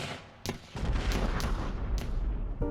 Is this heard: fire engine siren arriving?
no